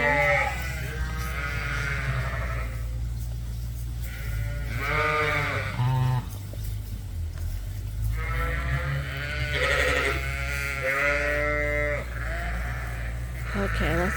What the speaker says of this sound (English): we got a nice little cluster of ewes and lambs here today, all mellowing out together.